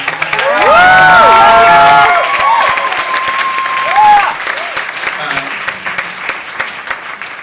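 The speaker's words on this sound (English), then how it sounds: "And so another huge round of applause for Jennifer." Loud applause and cheering from an audience after a musical, with high whoops and shouts rising over the dense clapping, which peaks early and then gradually thins out.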